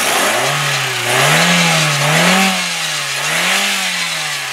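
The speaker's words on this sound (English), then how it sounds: "I'll rev it up for you. You can hear her." A 2001 Volkswagen Jetta GLS four-cylinder engine revs up and down several times in smooth waves, loud and close, with a steady low hum between rises.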